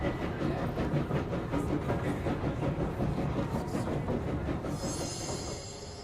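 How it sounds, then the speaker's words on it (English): Steady rumbling train in Control's Alan Wake DLC, a video game, with continuous clickety-clack of wheels over rails at close range, loud throughout, then a high hiss joins near the end. "The train is right here."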